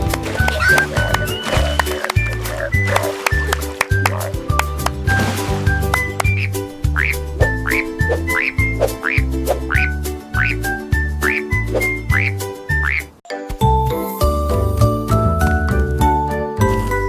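Croaking frog effects run through a bouncy French children's nursery song, repeating in quick rhythmic bursts over steady music with bell-like tinkles and a clip-clop beat from start to finish.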